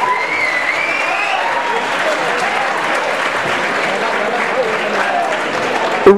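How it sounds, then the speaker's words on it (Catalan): Audience applause at a school graduation ceremony for the vice-principal, steady dense clapping with crowd murmur and voices mixed in throughout. "Un fort aplaudiment per ahir"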